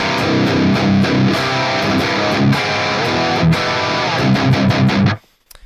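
Heavy, well-rounded distorted electric guitar amp tone chugs through a riff, thick and full-bodied, with palm-muted hits, playing alone until it stops sharply at the end.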